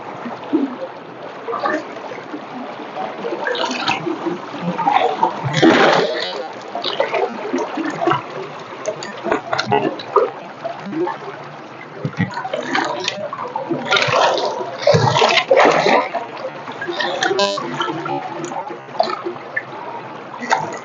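Strong floodwater river current surging and splashing, loud and close throughout, with churning water and uneven gushes over a constant rushing bed.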